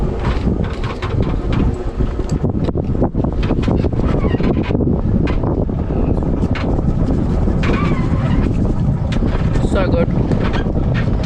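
A sailboat moves under way at sea with constant wind buffeting and rushing water noise close to the microphone, while people talk briefly over it.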